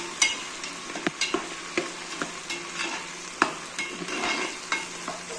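Roughly crushed ginger and garlic sautéing in a pan for khichdi, a steady hiss of frying with sharp, irregular scrapes of a spoon stirring close by, no talking.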